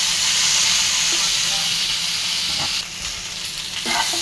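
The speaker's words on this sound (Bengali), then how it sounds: "ভেন্ডিটা ফ্রাই হয়েছে" Okra fries in a pan with a loud, steady sizzle close by, easing slightly partway through as it is stirred, with no one talking.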